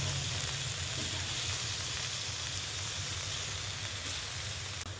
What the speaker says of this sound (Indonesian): Goreng sampai dia tak ada merah-merah lagi guys ya.